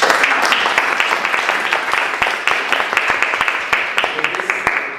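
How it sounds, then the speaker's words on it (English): Toastmasters club meeting audience applauding, a close, loud round of clapping with distinct individual hand claps standing out over a steady crowd wash, gradually thinning toward the end. "Another round of applause."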